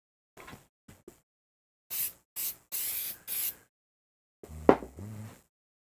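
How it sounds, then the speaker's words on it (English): Glue activator sprays onto the back of a maple guitar fretboard in a workshop, several short hissing bursts spaced apart, with a few light clicks before them and a thump near the end. "Activator on the back of our fretboard."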